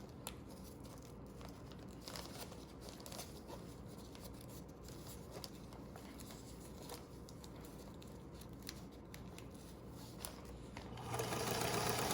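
A sewing machine runs a steady, quiet stitching hum along the edge of a hospital gown for several seconds, with faint fabric handling noises, growing louder near the end.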